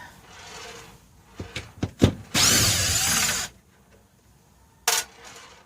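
A power drill backs screws out of the trim on a Lance truck camper's roof vent, with short whirring bursts, a sustained loud run, and a final brief burst amid light handling noise.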